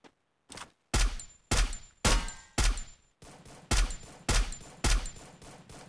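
Bursts of gunfire in the Free Fire battle royale game, about nine loud, sharp volleys in a steady rhythm, each with a short decaying tail, heard alone with no voices.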